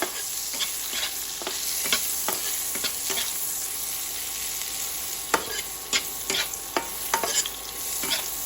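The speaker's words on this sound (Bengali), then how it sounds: "আমসুটিগুলো আমি খুব বেশি ভাজবো না" Dried mango pieces (aamsuti) frying in a pan with dried chillies and five-spice tempering, a steady close sizzle broken by repeated scraping stirs of a spatula, with no talking.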